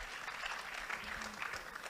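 Audience applause at a gathering where couples share testimonies, a soft, distant wash of clapping that runs steadily through the short moment without voices over it.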